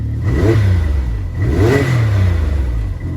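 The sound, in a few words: Can-Am X3 revving with Valvetronic exhaust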